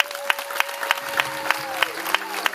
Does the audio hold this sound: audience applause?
yes